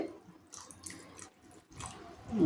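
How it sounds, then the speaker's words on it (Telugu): Water pours from a vessel into a pot of chicken curry, a close, moderately loud gush that dips briefly midway and swells again at the end, with no talking. "ఇంకా కొంచెం వాటర్ పడతాయండి, నేను వేస్తున్నాను చూడండి"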